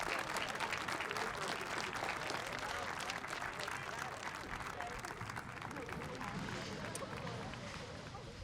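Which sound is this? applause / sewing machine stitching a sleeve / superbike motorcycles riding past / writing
applause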